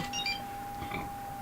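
A phone gives off an electronic beep alert, a steady tone accompanied by several short chirping bleeps, fairly quiet and alone without talk.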